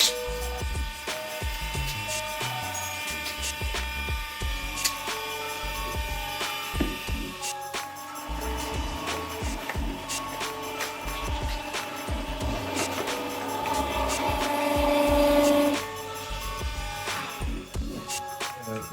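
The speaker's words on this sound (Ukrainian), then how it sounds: "запускаємо прес і важливо опускаємо е, платформу" An 18-tonne AntEco baling press for recyclables and waste runs with a low, fairly quiet mechanical hum and hydraulic whine, rising somewhat toward the end over background clatter.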